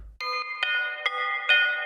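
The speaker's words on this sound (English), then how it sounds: "If you want to make some bells like here," Sampled bell tones played on a sampler ring out in a short sequence of four struck notes, each with a bright attack and sustained metallic shimmer.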